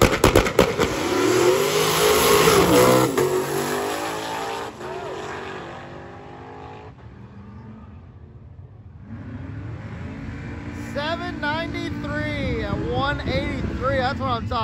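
A Corvette drag car launches and accelerates hard down the strip at a drag racing event, a loud engine roar rising and then fading into the distance, with crowd noise and people talking around it.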